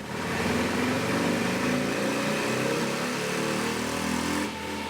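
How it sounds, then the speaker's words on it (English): A Harley-Davidson motorcycle running at top speed on a dyno roars loud and continuous, heard from just outside the dyno room, holding steady before dropping off near the end. "we get a good sense of just exactly what the bike sounds like at top speed"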